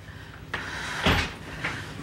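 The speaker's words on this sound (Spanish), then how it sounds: "abre la puerta." A door is pushed open with a sudden scrape, then a louder knock or thud of the door moving, followed by a softer bump, close and alone.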